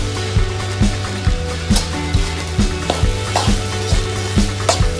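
Food sizzles loudly in a hot wok while a utensil scrapes and stirs a Thai holy basil stir-fry in a steady, regular rhythm, about two strokes per second.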